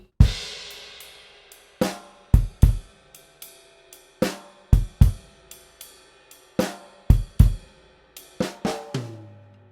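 A drum kit plays a sparse, punchy groove on ride cymbal and toms with sharp hits and ringing cymbal decay, each stroke clear and close, no voices.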